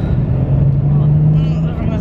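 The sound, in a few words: car approaching on a single-track road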